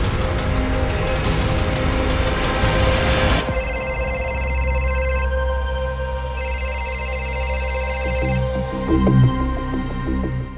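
Telephone ringtone in a Hindi TV crime drama, an electronic melodic ring that repeats in bursts after a noisy opening, loud and up front.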